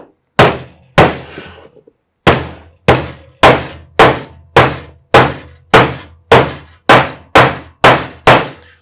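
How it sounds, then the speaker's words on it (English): Hammer blows drive nails into a homemade wooden tool box, about thirteen sharp, loud strikes close by in a steady, even rhythm after a brief pause, with no voices. "I just have a little bit of experience with a hammer."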